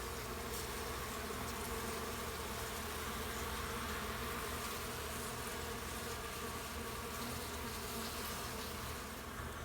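A crowd of honeybees buzzes steadily and loudly throughout a spring hive inspection, with smoke in use, forming a dense, continuous drone with no talk.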